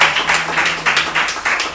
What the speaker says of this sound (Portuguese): Quer aplaudir? Aplauda o Senhor.